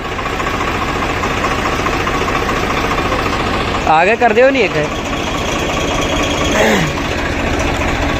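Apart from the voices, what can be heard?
855 tractor engine running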